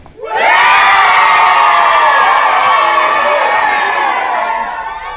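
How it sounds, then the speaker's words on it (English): Children at a Gloucester school cheer loudly as a crowd, a dense burst of high excited shouting and whoops that rises quickly and holds steady before easing slightly at the end. "how about a nice big cheer to send it back to the studio?"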